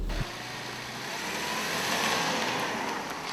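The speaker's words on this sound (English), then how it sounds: "let's go ahead and take it for a drive and see what it can do" A 2010 Subaru Legacy 3.6R six-cylinder car under way, its engine droning steadily and building slightly, heard as a continuous near hum with road noise and no talk.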